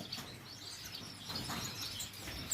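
Bengalese finches at a breeding setup give quiet, scattered high chirps over a faint background hiss, with no talking.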